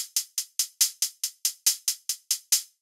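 Programmed hi-hats at varying velocities play alone, about a dozen crisp, bright ticks in a steady even rhythm, some accents hitting harder than others.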